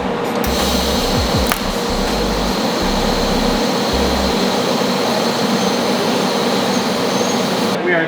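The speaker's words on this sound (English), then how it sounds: "Where are you welding?" Tack welding on a Subaru 2.5 RS part gives a steady close crackling buzz, broken by a few short low pulses near the start, continuing alone to the end.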